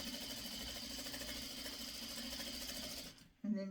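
Sewing machine chain-sewing small pieces of pre-cut quilt fabric, a fast steady mechanical whir running continuously before stopping abruptly, followed by a short clunk.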